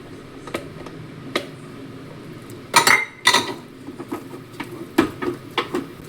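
A sweet halwa mixture with ghee is stirred in a pan, with sharp clinks and knocks of a metal utensil against the pan coming in irregular bursts, a few louder clusters near the middle.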